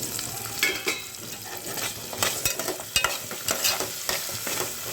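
Onions and tomatoes fry in a pan for a fish curry, sizzling steadily close to the mic while a utensil stirs them in short, repeated bursts, with no voices.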